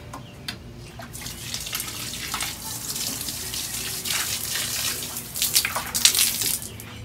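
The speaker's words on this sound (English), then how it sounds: "take this watering can and water the plants" A watering can pouring water onto plants makes a continuous, close splashing trickle that grows a little louder and more spattery toward the end, with no talking.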